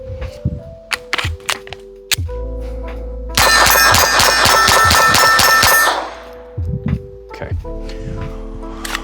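A Glock fitted with an Advantage Arms .22 LR conversion kit fires a fast ten-round string at a steel target about 25 feet away, each shot cracking with a ringing metallic clang. Someone talks before and after the burst.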